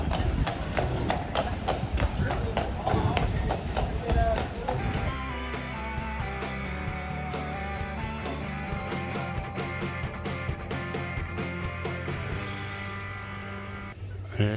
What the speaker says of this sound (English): Goods are being delivered to the stores with the horse and buggy.